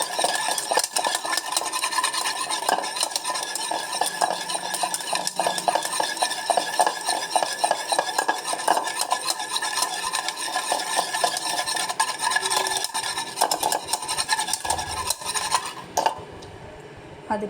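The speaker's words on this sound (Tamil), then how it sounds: "இதை நல்லா கொஞ்சம் மிக்ஸ் பண்ணிக்கணும்." Cocoa cake batter with oil being stirred in a bowl: a steady, continuous scraping and clinking of a utensil against the bowl that runs nearly the whole time and fades out at the end, with no talking.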